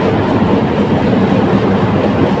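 A passenger train pulls out of a station bound for Daulatpur, heard from on board as a loud, steady, close rumble with a continuous rattle of wheels on the track.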